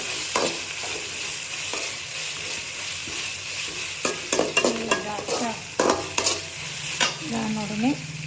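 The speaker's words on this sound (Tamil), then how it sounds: "ஸோ இஞ்சி பூண்டு ஸ்மெல் போகிற வரைக்கும் நல்லா வதக்கிக்கலாம்." Ginger and garlic sauté in a pan, sizzling softly while a spoon scrapes and stirs in irregular taps close by. A tonal squeak comes near the end, and no one speaks.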